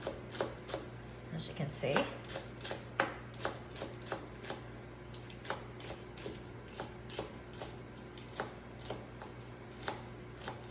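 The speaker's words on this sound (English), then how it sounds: "And then chop them, okay? And this ceramic knife just chops fabulously." Steady rhythmic chopping of ingredients for crab jambalaya with a ceramic knife on a flexible cutting board, crisp knocks repeating about every half second, with brief speech near the start.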